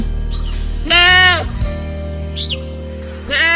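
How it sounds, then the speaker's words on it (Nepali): Goats pass along a village path in Arunachal Pradesh, letting out a loud, close wavering bleat, then a quieter call, and another bleat rising at the end over a steady background hum. "यहाँ हेर्न सक्नुहुन्छ बाख्राहरू गइरहेछ"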